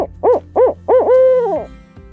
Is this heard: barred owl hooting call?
yes